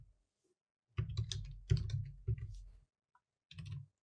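Typing a folder name on a computer keyboard: two short clusters of quick, crisp key clicks, close and fairly quiet, separated by a brief pause, with silence around them.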